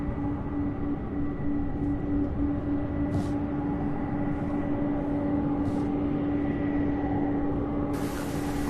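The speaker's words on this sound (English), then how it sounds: "the A300 out of Vancouver, Canada, UPS flight 9723, coming in for landing here on 17" A UPS Airbus A300 arriving from Vancouver lands on runway 17 at Louisville, a continuous engine rumble with a steady whining tone, brief hissing bursts, and a sharper hiss near the end.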